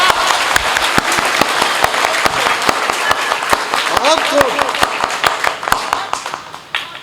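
Audience applause and sharp claps at a Hindi poetry stage event, dense and sustained across the whole stretch with a brief vocal tone partway through.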